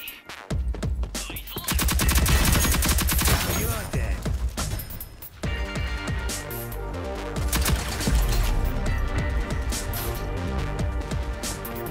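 Loud bursts of automatic fire from Anvil's gun in the video game Rogue Company, in long rapid volleys with brief gaps and clanking in between, some talk faintly mixed in.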